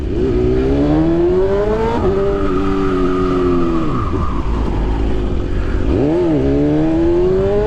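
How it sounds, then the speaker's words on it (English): A motor engine drones loudly and close, its pitch rising and falling as the vehicle speeds up and slows, with wind rush throughout. "I'm on a motorcycle"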